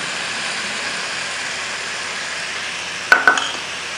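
Fenugreek rice with turmeric and salt being stirred in a pan, a soft steady scraping and light sizzle throughout, then two sharper clinks of the spoon against the pan near the end.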